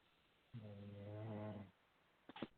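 A caller on a telephone conference line snores, giving one long, low, rumbling breath heard through the narrow phone audio. A short silence follows, then a few faint clicks.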